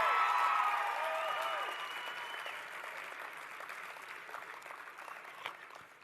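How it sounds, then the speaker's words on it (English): Applause from a ceremony audience for manufacturing and engineering technology cluster winners at a WSA 2025 closing ceremony: a broad wash of clapping that starts loud and slowly thins and fades over several seconds, with faint background voices. "please, a big round of applause"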